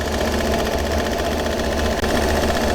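A steady, dense hiss of air escaping while boat fuel lines are bled, with a mechanical rattle, runs continuously, close and fairly loud, broken only by a brief dip near the end.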